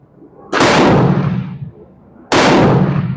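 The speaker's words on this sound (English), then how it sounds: "I've got a guy next to me shooting the carbine, so I apologize for the noise." Two loud, sharp carbine gunshots a couple of seconds apart, each followed by a booming echo that rolls away across an open shooting range.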